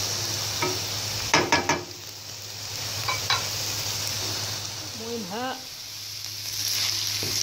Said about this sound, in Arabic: كنشحر الخليط حتى كينشف تماما من الماء